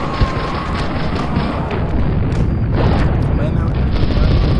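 Light machine gun fire in the video game CastleMiner Z, a loud, dense, continuous clatter of rapid shots and booms with voices mixed in.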